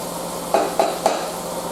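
Meat searing in a hot pan gives a steady sizzle, broken three times in quick succession by a utensil clinking and scraping against the metal.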